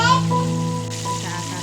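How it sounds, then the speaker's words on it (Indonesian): Chicken pieces fry in oil over low heat, giving a steady, even sizzle close by, with a faint tonal hum running underneath and no talking. "Setelah itu kita akan goreng ayam pakai api yang kecil agar matangnya merata sampai dalam"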